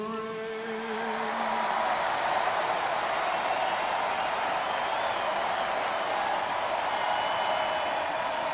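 Stadium crowd in the baseball video game MLB The Show 22 roars and applauds during postseason festivities, a sustained dense wash of cheering that swells in after a brief held musical tone.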